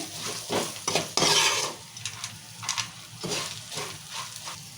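Coriander leaves frying in hot oil as a tempering for lemon rice, giving a steady sizzle broken by scraping stirs and a few clinks of a ladle against the pan, close and fairly loud.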